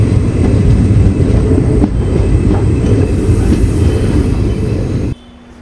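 A passenger train on the Kollam to Chennai Egmore line rolls along with a loud, steady rumble and clatter of wheels from on board, with faint squeal, cutting off abruptly near the end.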